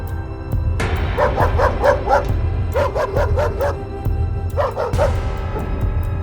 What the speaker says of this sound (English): a black dog grunting at him